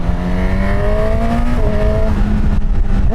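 Honda CB1000 Hornet inline-four motorcycle with an SC Project exhaust and baffle, revving loud and close with rising and falling engine tones through quick shifts.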